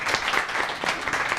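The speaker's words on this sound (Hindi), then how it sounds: "तालियां बजाइए जी।" Studio audience applause on a Ramzan television show, a brief burst of moderately loud, even clapping that carries through without a break.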